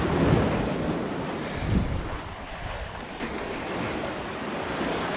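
Ocean waves wash onto a beach in a broad, loud roar with surging swells, mixed with gusty wind buffeting the microphone and no voices.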